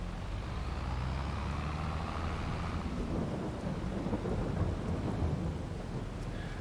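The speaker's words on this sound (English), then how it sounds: "here comes the rain" Steady rain and rolling thunder in the farming game Farming Simulator 22 on the Elm Creek map, a dense, constant roar with low rumbles that stays loud and unbroken throughout, with no talking.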